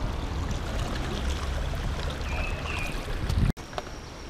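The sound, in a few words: pool filter circulating swimming pool water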